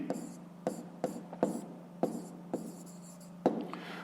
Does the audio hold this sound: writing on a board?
yes